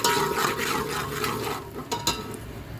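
A spoon stirs turmeric and chili powder through hot oil in a pan for an egg curry, brisk scraping strokes over a sizzle, ending in a couple of sharp clinks.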